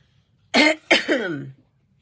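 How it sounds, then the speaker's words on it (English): Two quick, close coughs in a row from phlegm in the lungs, the second trailing into a throaty rasp, with silence before and after. "I still have a little bit of phlegm on one of my lungs, and that's what just makes me cough"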